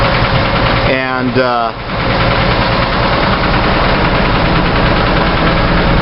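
A 1964 Chevy II engine idles steadily after a valve adjustment, a loud, continuous low rumble with a faint ticking texture, briefly interrupted by a short spoken word near the start.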